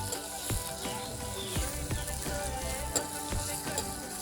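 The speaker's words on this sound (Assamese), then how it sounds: "পিঁয়াজখিনি অলপ গোল্ডেন ব্ৰাউন হোৱালৈকে আমি ভাজিব লাগিব" Onions sizzling in hot oil in a pan, made while cooking a bamboo shoot and silkworm dish. The frying is a steady, soft crackle with scattered pops and light stirring clicks, and no voices are heard.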